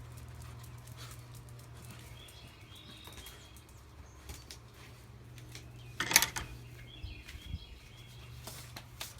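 A dog panting and whimpering indoors, soft steady breathing with a brief louder burst of movement midway, fairly quiet and close with no talking.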